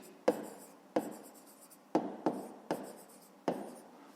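Pen or pencil writing out a fifth-grade math solution on paper, heard close and quiet as a series of six sharp scratchy strokes, each starting with a tap and trailing off, with no one talking.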